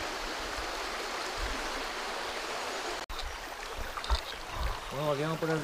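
The Saleres river in Albuñuelas, Granada, rushes steadily as a broad, close hiss of flowing water. A short click breaks in partway through, and a voice starts speaking over the stream near the end.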